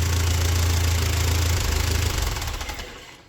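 An old Ford tractor engine that sat rained in for years, running with a loud, rough, knocking low rumble at idle that then fades as it winds down toward the end.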